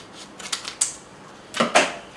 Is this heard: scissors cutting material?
yes